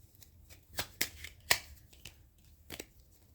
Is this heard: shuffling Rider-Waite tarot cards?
yes